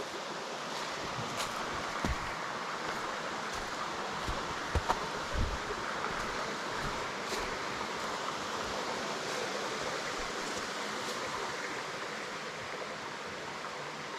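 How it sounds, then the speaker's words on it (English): A creek runs over rocks below a wooded trail, giving a steady, even wash of flowing water heard from some distance, with faint wind and a few small knocks and no voices. "Creek running down there, and it sounds nice."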